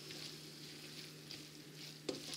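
Coquillette pasta with courgettes and onions being stirred in a hot pan, a soft, steady sizzle with faint scraping throughout and one brief sharper knock near the end.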